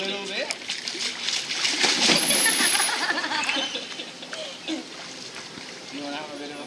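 A seal splashing water at an aquarium encounter, bursts of splatter and sloshing swelling in the middle, with people talking over and around the splashes.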